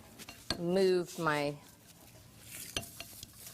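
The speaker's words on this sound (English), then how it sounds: "I take my pastry blender and I'm going to mash this avocado up like this." Avocado being mashed with a pastry blender in a kitchen gives soft squishing knocks and scrapes against a bowl, heard between and after a woman's speech.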